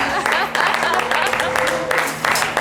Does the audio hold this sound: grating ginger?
no